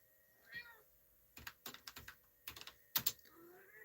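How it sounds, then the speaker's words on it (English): A house cat meows a couple of times, fairly faint, amid a scatter of quick computer-keyboard typing clicks in a quiet basement room. "My cat is meowing at me."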